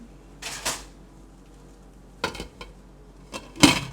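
A crock pot lid set back down on the slow cooker, with a few short clinks and clatters close by, the sharpest and loudest knock near the end, in an otherwise quiet kitchen.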